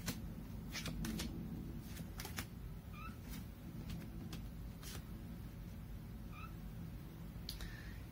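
Tarot cards shuffle and get drawn in a series of quick, soft riffling bursts and flicks, quiet and close, in a low room hum.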